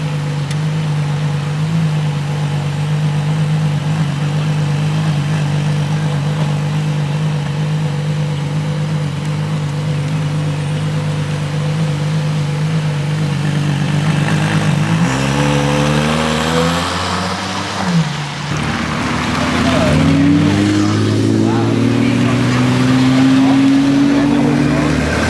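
A Ferrari LaFerrari's engine idles with a steady low drone, then revs sharply in rising, sweeping pulls over the last ten seconds, loud and close at a large car meet.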